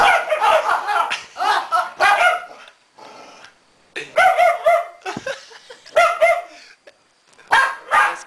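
Repeated high-pitched, yelping barks from a nearby dog come in quick clusters with brief gaps, fairly loud and close.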